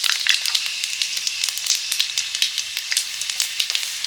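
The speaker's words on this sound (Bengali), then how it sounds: "তেলে দিলাম 5 ফোড়ন" Five-spice seeds (panch phoron) crackle and sizzle steadily in hot oil in a kadai, with quick sharp pops scattered through a continuous hiss.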